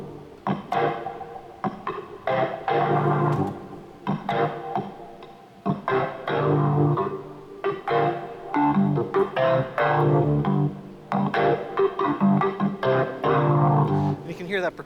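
Hammond organ played with percussion switched on, sustained chords and quick clipped notes in a lively, rhythmic passage, loud and close throughout.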